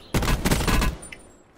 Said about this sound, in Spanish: Le pego yo también unos tiros.